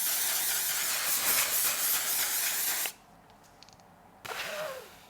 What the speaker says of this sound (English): I'm now gonna apply this specific setting spray all over my face.